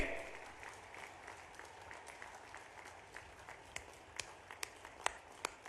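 A crowd at a political rally in Bhitarwar, Madhya Pradesh applauding steadily, with a few louder individual claps standing out near the end as the clapping thins.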